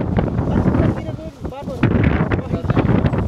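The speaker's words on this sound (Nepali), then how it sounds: "क्या शीतल मिठो हावा चल्यो है" Cool wind gusting on a mountain hike up Kintoki in Japan, buffeting the microphone in loud, uneven bursts, with a short dip and brief tonal sounds midway.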